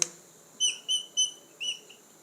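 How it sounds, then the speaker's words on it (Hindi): Four short high-pitched whistles in a quick uneven sequence, moderately loud against a quiet background with no talking. "ये सीटी क्यों मार रहा है भाई"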